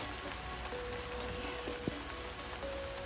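Steady rain falling outdoors by a stream in Ketchikan, Alaska, an even hiss of drops on surfaces that stays constant throughout, with a faint tonal whine and a single brief knock partway through.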